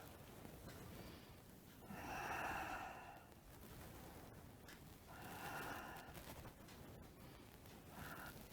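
Soft, slow breaths in a quiet room during a beginner qigong session, with three drawn-out airy exhales spaced a few seconds apart, close and faint.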